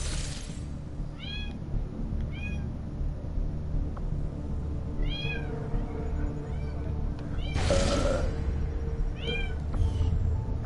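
A cat meows repeatedly indoors, several short rising-falling cries spaced a second or two apart over a steady background hum of game audio, with a brief louder crash midway.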